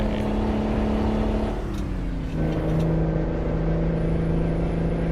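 Truck engine in American Truck Simulator droning steadily, its pitch dropping briefly as a gear change goes through, then settling into a new even hum under a continuous road roar.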